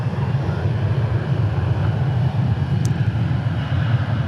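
An airliner departs runway 18 at DFW Airport, a loud, steady low-pitched engine roar that holds constant throughout without any talk.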